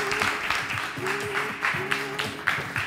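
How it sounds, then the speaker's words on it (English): Audience applause for a competitor in the final speed round of a World Class Baltic bartending competition, moderately loud clapping that swells in waves over nearly three seconds, with a voice or music running underneath. "Applause for Mihails, our finer speed round competitor"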